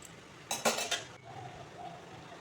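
A lid is set onto a cooking pot while taro leaves simmer with salt, a short cluster of metallic clinks and clatter, fairly close, followed by quiet kitchen background.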